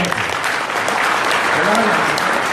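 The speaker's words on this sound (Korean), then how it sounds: "우리 위대한 우리 목포 시민에서 박수 한번 주세요." A crowd at a lecture in Mokpo applauds its own citizens, sustained loud clapping filling the hall, with a few voices faintly mixed in under the dense patter.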